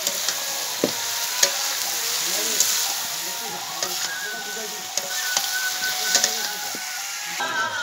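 Country chicken meat being stir-fried in a pan, a steady close sizzle broken by the scrape and knock of a spoon turning the pieces, with occasional louder clacks against the metal.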